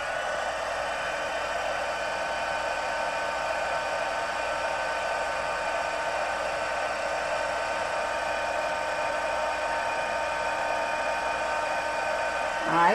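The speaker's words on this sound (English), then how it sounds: "then we're going to heat emboss this" A heat gun blows steadily at close range while heat embossing a stamped paper card, giving a constant airy whir with a high tonal hum that holds unchanged throughout.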